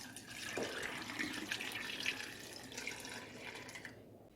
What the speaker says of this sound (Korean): 마찬가지로 식초를 부어주세요